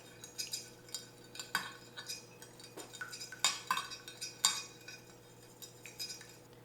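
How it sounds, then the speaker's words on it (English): A utensil stirs a garlic mixture in a bowl, giving repeated quiet scraping clinks and taps in an irregular rhythm, close and soft over a faint background hum. "Then we just want to mix it all around. Get it all stirred up."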